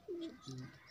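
A racing pigeon entered in a flying competition gives a single faint, soft coo in two short notes, close by and alone.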